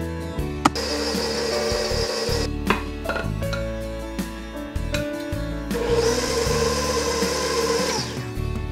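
An electric mixer beats carrot cake batter after flour and walnuts are added. Two bursts of loud, steady, high whirring are split by a quieter gap with knocks and clatter, close and without voices.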